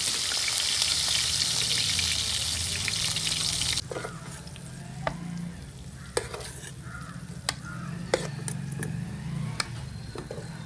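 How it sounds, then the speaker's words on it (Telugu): Steady sizzling of food frying in a pan, loud at first then quieter, with occasional sharp clicks and scrapes of stirring. "టమాటోలు అన్నింటినీ ఇరువైపులా ఇలా బాగా వేయించుకోవాలి"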